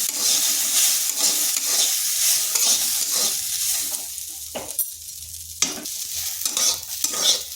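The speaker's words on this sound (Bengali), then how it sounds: "এই সুজির সাথে সাবুদানাটাও বেশ কিছুক্ষণ একটু নাড়াচাড়া করে নিতে হবে।" Semolina and sago stirred together in a pan over low heat, a steady close sizzle with continuous scraping strokes and a few sharp utensil knocks, fairly loud throughout with no talking.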